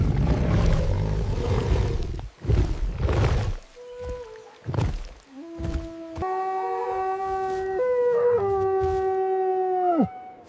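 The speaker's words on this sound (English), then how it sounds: "This is a wolf." A wolf howls in a series of long, steady, harmonic tones that rise and then slide down at the end, following earlier rough noisy bursts that may be other wild animal calls.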